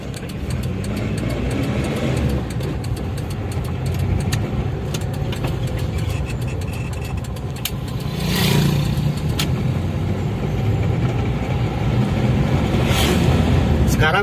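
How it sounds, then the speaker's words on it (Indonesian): A Daihatsu Zebra Espass out on the road for a test drive after a brake repair, its mid-pitched engine droning steadily inside the cabin, rising slightly under acceleration, with people talking over it. "Oke, kita masuk ke jalan raya terlebih dahulu. Kita test drive sebentar aja."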